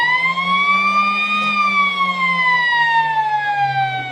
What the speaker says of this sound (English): Blow the siren, mate.